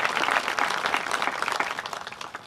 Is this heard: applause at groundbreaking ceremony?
yes